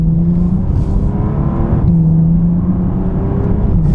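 Bentley Continental GT under hard acceleration: a loud, steady engine drone heard from inside the car, broken by a quick dip and recovery in pitch as it shifts up a gear.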